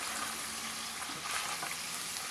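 Adobo sa asin sizzles in its own rendered oil in a hot pan, giving a close, steady, dense frying hiss that carries on without a break and with no voices over it.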